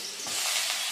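Garlic sizzles in hot oil in a pan, a bright, steady frying hiss that swells slightly over a moment, close and alone.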